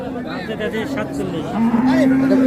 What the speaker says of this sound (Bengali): এখানে একটা বাছুর আছে